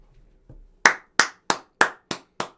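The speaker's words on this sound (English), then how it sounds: "Applause." Six sharp claps ring out one after another in an even, steady rhythm, loud and close, each one separate and alone, after a short faint low rumble.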